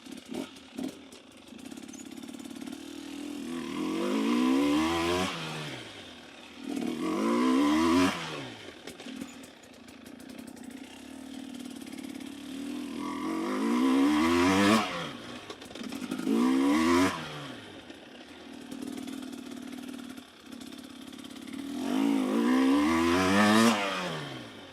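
An enduro motorcycle on a practice run revs up and backs off in repeated cycles, its engine note rising and falling several times. The bike is close and loud throughout, with no talking.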